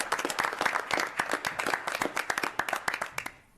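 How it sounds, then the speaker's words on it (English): Applause at a city council meeting honoring silver award recipients, a room of hands clapping in a dense, uneven patter that thins toward the end. "So a round of applause for all the silver."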